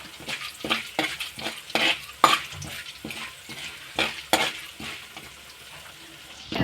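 Dried red chillies frying in a pan of hot oil for sabudana upma, steady crackling sizzle with repeated scraping stirs of a spoon against the pan, close and fairly loud.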